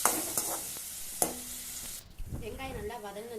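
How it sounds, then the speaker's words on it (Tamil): Onion paste sautés in oil, a short burst of sizzling with a few stirring scrapes, then quieter bubbling with a faint voice-like tone in the background. "அந்த வெங்காய பேஸ்ட் எடுத்து அந்த எண்ணெயிலே போட்டு எண்ணெயிலே நல்லா வதக்கி விட்டுருங்க"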